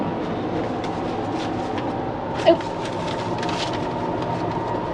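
Interior of a new train from Bangkok Krung Thep Aphiwat to Hat Yai Junction, with a steady rumbling cabin drone, one brief knock midway and faint background voices.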